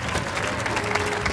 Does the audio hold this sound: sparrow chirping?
no